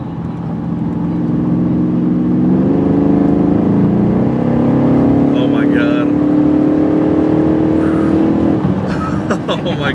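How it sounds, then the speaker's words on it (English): A car engine accelerates, loud and close: a steady drone that climbs in pitch and builds as the throttle opens, with a brief surge near the end. "just stepping on the gas"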